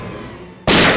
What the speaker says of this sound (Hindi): अरे अंदर गोली चली अंदर